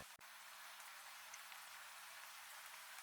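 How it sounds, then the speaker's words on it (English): Steady rain falls on muddy earth around a WWI trench, a dense, even hiss of countless drops close by with no voices, one brief sharp tap near the start. "Listen to the rain washing over the world."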